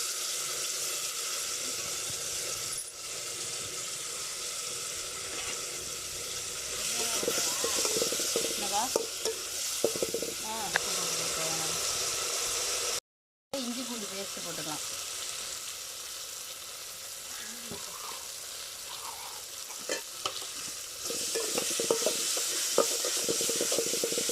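Steady sizzle of onion, green chili and fenugreek seeds frying in hot oil, with occasional stirring clinks and scraping, close and continuous with a brief dropout midway.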